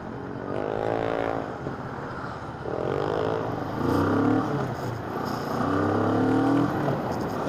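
Car traffic on Quirino Highway in the early morning holiday rush brings a constant rumble of engines, with several vehicles revving and accelerating nearby in repeated rising swells.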